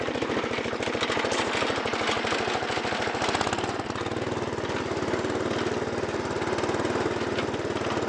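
Snapper riding lawn mower with a new slip clutch drives along, its engine a loud, continuous rough drone heard up close, steady throughout with a slight change in tone partway.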